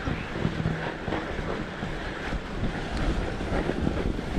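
Strong southerly wind roars across an open area of a snowy winter fat-bike trail, a loud, constant buffeting rush of wind noise hitting the camera without a windshield.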